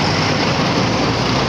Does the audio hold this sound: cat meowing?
no